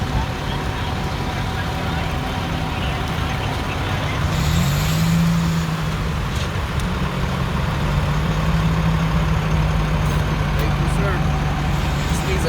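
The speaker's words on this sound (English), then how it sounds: "It's driving." A Toyota Celica GTS, won at a salvage auction and long sitting with a dead battery, drives along with a steady engine and road rumble throughout, loud and close, while people talk over it.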